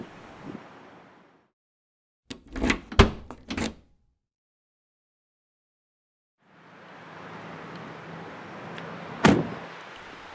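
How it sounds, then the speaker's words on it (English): A 2018 Audi S5 car door thumps shut with a few solid, close knocks, set between stretches of quiet outdoor wind and rustle, then another sharp thud. "I love how solid that door sounds when it shuts."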